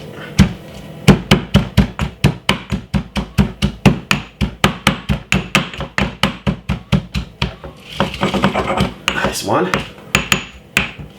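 Thyme and spring onion crushed with steady rhythmic pounding, a rapid run of sharp wooden knocks, loud and close, some mixed with scraping and rubbing near the end; a voice speaks briefly.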